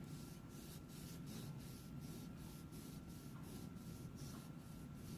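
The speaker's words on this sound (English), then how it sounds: "Now I'm going to rub our crayon from side to side." An orange crayon rubs side to side across paper laid over a leaf, a faint, steady scratchy rasp repeating in quick regular strokes about three times per second, heard alone.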